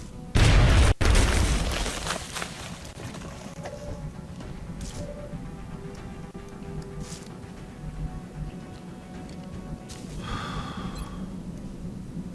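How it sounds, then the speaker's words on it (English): A frag grenade explodes in XCOM: one loud, sudden boom and crack, followed by a fading rumble that settles into quieter ambient game sounds. "Frag out."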